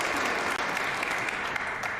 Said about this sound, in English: Warmly appreciated by the crowd